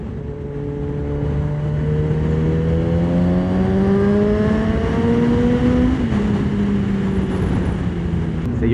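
A custom Honda CBR900RR Fireblade motorcycle engine pulls hard under acceleration, its rising tone climbing steadily through a gear before a brief shift and continuing, loud and close.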